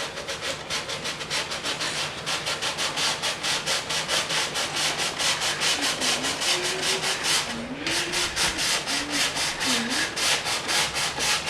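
Rhythmic back-and-forth sanding along the edge of a wood veneer panel for a vintage hi-fi cabinet, rapid even strokes close up and continuous apart from a brief pause, with no talking.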